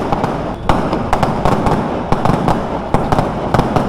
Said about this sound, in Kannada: ಮೇನ್ ರೋಡ್ ಮಧ್ಯದೊಳಗೆ ಪಟಾಕಿ ಹೊಡಿತಾರೆ ಬಾಯ್ಸ್